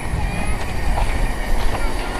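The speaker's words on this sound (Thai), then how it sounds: "วันนี้กะว่ามาเก็บบรรยากาศหัวรถจักรนะครับเต็ม" Special steam train 903 on the run from Bangkok to Chachoengsao, heard as a continuous close rumble of rolling railcars with faint wheel clatter and squeal throughout.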